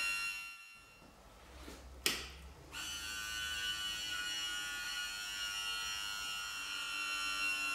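A Harrison HS59 lathe's spindle-bearing oil pump runs with a steady, strained electric buzz. A sharp click comes just after two seconds, then a continuous whine and hum that stays at an even level. There is no talking.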